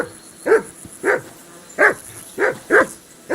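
Dog barking in Kingdom Come: Deliverance II, five or six sharp, evenly spaced barks close by over quiet ambience.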